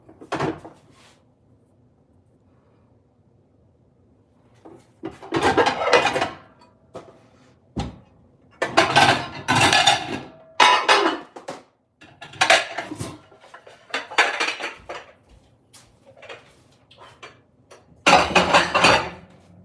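Dishes being washed at home: bursts of clattering pots, plates and cutlery clinking together come and go in irregular clusters, with quiet gaps between them and no talk.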